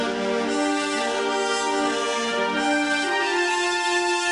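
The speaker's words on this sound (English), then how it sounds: "We have a third voice, and the woods are making the third tone." Woodwinds join brass in a held chordal harmony for a metal cover arrangement, a smooth, continuous and loud blend with one note change partway through and no voices.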